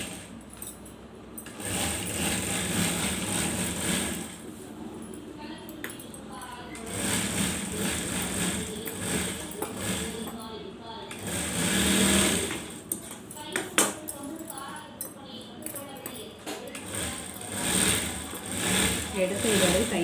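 A sewing machine stitches fabric in repeated bursts of fast mechanical whirring that start and stop, close by, while people talk in the background.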